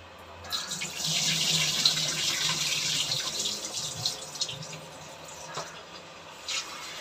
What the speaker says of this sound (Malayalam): എല്ലാ ബോട്ടുകളിലും വെള്ളം നിറച്ച് ക്യാനി നിറച്ചു